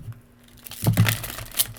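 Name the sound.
shuffling a new tarot card deck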